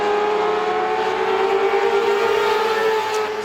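Car number 78 in a Classic Lite heat at Star Speedway pulls away, a loud sustained engine drone with a steady pitch that swells slightly midway and holds close for a few seconds.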